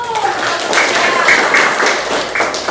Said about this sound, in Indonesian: Terakhir sekarang kasih tepuk tangan dulu